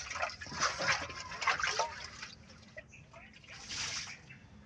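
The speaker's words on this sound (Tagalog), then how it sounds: "Babanlawan natin siya ng tubig para siguradong malinis talaga" Water splashing and sloshing inside a metal cooking pot as it is rinsed, with scraping and running water in bursts, close by.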